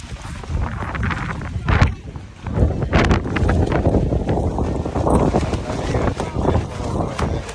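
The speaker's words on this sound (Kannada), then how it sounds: "ಗಾಳಿ ಜೋರಾಗಿದೆ" Strong wind roars and buffets the microphone in heavy gusts at an outdoor farmers market in the USA, with voices talking faintly beneath the rushing noise.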